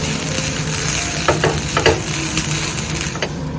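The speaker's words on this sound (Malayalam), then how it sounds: "എന്നിട്ട് ഇത് മൂക്കുന്നത് വരെ വറക്കണം ചമക്ക്." Curry leaves and spice masala frying in hot oil for bitter gourd theeyal produce a dense, continuous sizzle close by, with occasional spatula scrapes and crackles.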